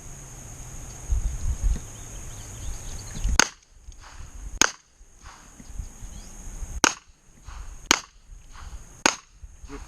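Pistol shots ring out on a USPSA classifier stage at an outdoor range, six sharp loud cracks spaced about a second apart after a brief lead-in, each with a short echoing tail and no talking.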